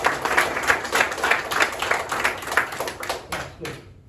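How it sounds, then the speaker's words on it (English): An audience at a Bible Lent competition claps for the Vikings team, a moderately loud, loosely rhythmic round of hands with pulsing beats that cuts off abruptly near the end. "Give a big clap for the Vikings."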